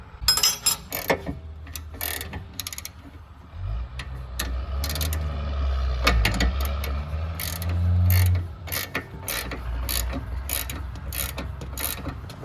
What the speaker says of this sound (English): Cody's got an 18mm wrench on the nut, and we've got a Torx 40 on the inside of the